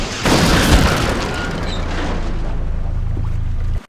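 A rocket blast in XCOM: Enemy Within, a deep booming explosion that hits hard and then rumbles on for a few seconds before cutting off, heard alone.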